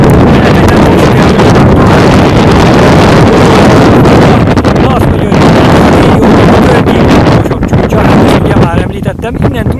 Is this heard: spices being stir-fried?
no